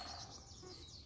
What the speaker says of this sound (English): there's this amazing dawn chorus going on